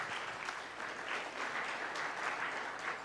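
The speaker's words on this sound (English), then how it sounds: "Let's have a round of applause for Mr. Ketan and let's get him the gift." An audience at a wealth management and private banking session in India applauds a presenter, giving a steady, moderately distant wash of clapping that continues for the whole stretch without voices.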